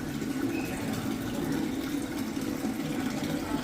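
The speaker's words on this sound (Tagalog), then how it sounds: "Sarap ng sound ng tubig." Water flowing steadily in a fountain at Longwood Gardens, a continuous close splashing rush with no pauses and no voices.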